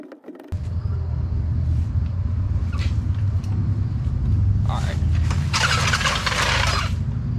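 A freshly installed engine in an Infiniti G35 cranks and catches, then settles into a loud, steady rumble with a shrill squeal rising midway, close up in a garage.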